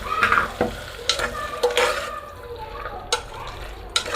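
Ground masala of mint, coriander, garlic, ginger and green chilli frying in a pan, steady close sizzle with repeated scraping stirs of a spoon over it.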